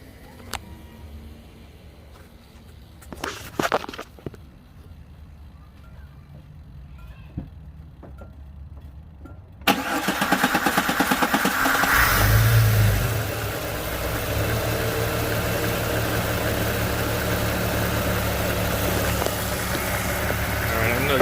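Quiet clicks and shuffling give way to a 2004 Jeep Grand Cherokee WJ engine cranking and catching, then settling into a loud, steady running rumble; the engine has a stalling-at-idle fault.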